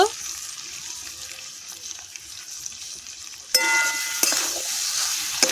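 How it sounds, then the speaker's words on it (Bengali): Potato and pointed gourd stir-fried in a pan, a quiet sizzle that jumps much louder and brighter partway through, with scraping stirs over it. "ভালো করে আলু পটলটা কষিয়ে নেব"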